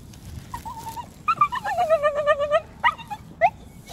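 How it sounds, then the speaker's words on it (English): A dog at a dog park whining in thin, high, wavering cries: a short whimper, then a longer rising and falling run, followed by a few brief yelps, close and fairly clear over faint background noise. "He whines, looks over, we walk."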